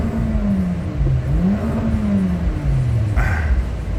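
A remapped 2015 Toyota Altis 1.8 with a CVT gearbox, running on 95 fuel, pulls hard as its engine note climbs and dips through successive rises in revs, loud and close with steady road roar beneath and no talk.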